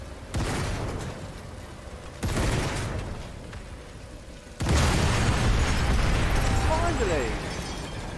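Explosions in the Sniper Elite 5 video game as a tank is destroyed by three TNT charges, a grenade and a satchel charge: three loud, sudden booms a couple of seconds apart, the last one largest and followed by sustained rumbling debris.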